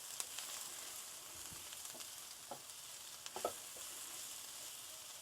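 Ginger, garlic, green chili and onions sizzling and frying in a pan, a steady soft crackle with occasional stirring clicks and scrapes, fairly quiet and with no talking.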